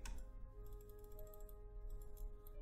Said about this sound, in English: Why am I constantly clicking on that?